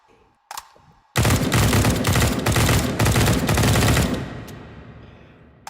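A gun fires in the VR shooter Hot Dogs Horseshoes & Hand Grenades: a single shot, then a loud, rapid, sustained automatic burst lasting about three seconds, ending in a fading echo and tail.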